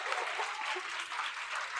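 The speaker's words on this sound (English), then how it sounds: "and clap." Steady, dense applause from an audience at a university orientation session, loud and continuous for the whole stretch with no speech on top.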